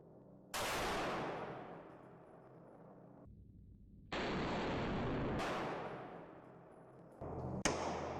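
RDP Hellcat pistol with compensator firing, three sharp loud shots, each followed by a long decaying boom, spaced a few seconds apart.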